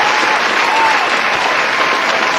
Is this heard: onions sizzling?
no